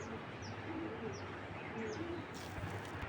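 Pigeons coo softly in repeated low, throaty calls mixed with a few faint chirps, close by over a steady background hum, with no talking.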